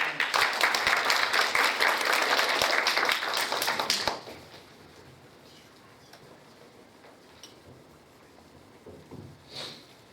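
Audience applause welcoming a professor to speak at a business seminar, dense clapping for about four seconds that then stops abruptly, leaving quiet room tone with faint noises.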